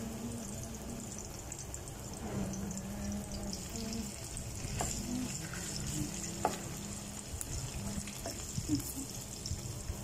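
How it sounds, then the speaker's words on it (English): Fish cake fries in a pan with a steady close sizzle and some stirring noise, a few soft clicks and bumps breaking through the constant hiss. "fish cake until brown"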